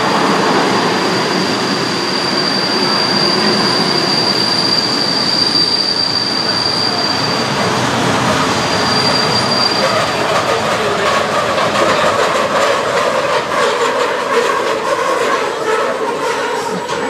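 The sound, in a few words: vintage train running on rails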